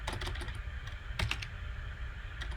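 Quick keystrokes clatter on a computer keyboard during a CSS coding challenge, a close, steady burst of typing with a few louder taps and no talking.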